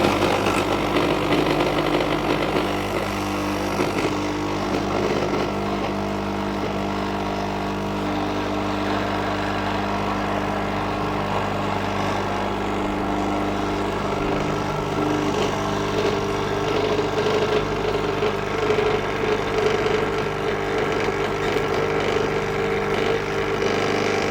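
A Dolce Gusto coffee machine brews through a reusable capsule with a steady, droning pump hum and vibration that holds at a constant level for over twenty seconds, with no talking.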